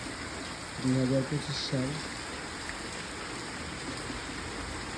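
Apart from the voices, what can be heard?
steady monsoon rain falling outside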